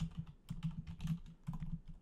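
Fast typing on a computer keyboard while searching for items in a modded Minecraft IndustrialCraft 2 session, with dense, quick clatters and no speech, heard close but fairly quiet.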